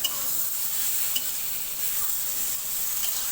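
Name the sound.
pointed gourd (potol) frying with spices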